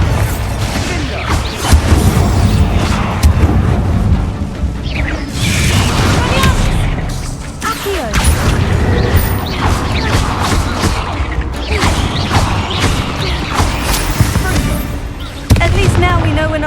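Bombarda explosion spell blasts in Hogwarts Legacy tomb combat, repeated loud booms and crashing impacts through constant battle noise, with voices calling out over them.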